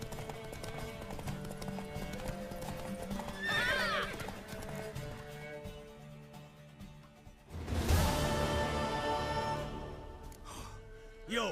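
In The Witcher 3: Wild Hunt, horse hooves clip-clop steadily while a horse neighs loudly twice, once briefly near the start and again with a long whinny later, over a busy game soundscape.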